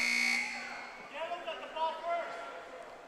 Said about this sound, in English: buzzer